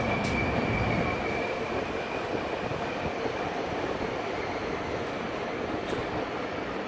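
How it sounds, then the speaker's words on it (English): A passenger train rolls into Tainan station in Taiwan, a steady loud rumble of wheels and carriage noise with a faint high squeal, heard from on board with no talk. "So I'm gonna take only one stop"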